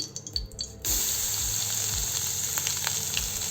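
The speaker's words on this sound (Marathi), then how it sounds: "तूप गरम झालेलं आहे, बारीक केलेलं खोबरं घालू" Grated fresh coconut dropped into hot ghee in a pan erupts into a loud, steady close-up sizzle after a short stretch of quieter clatter, continuing evenly to the end.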